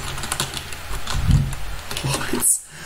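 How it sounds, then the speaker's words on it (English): Quick, close clicks and key taps from a computer mouse and keyboard during a game, an irregular patter of short presses, with people talking over them. "Just click with the mouse, and then click E."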